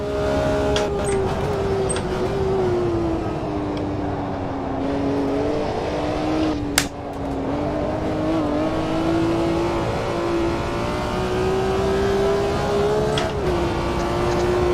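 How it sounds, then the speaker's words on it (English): A BMW M1 Procar racing engine in Automobilista 2 at the Buenos Aires circuit drones loudly and continuously, holding a steady high-revving tone that dips and climbs slightly, with one brief sharp blip midway and no talk. "BMW M1 Procar and Automobilista 2."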